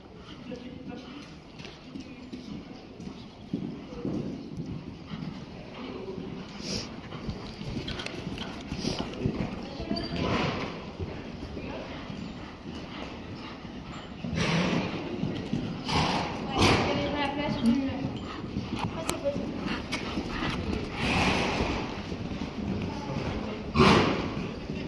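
Horse hooves trotting at a steady, calm pace in a riding session, rhythmic clip-clop thuds continuing throughout, with a rider's instructor voice talking intermittently over them and an occasional snort.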